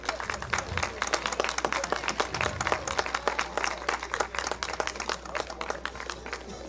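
Audience applause for the Auteuil family and volunteers at a community day event, steady dense clapping from a crowd lasting throughout, moderately loud with a low background hum.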